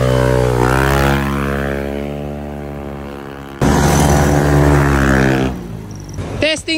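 A Yamaha Aerox V2 scooter in super stock trim is test-revved up close, its engine rising and holding in loud, smooth sweeps, then dropping away and revving again before a final short burst.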